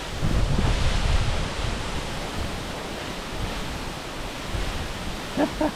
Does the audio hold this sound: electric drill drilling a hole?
no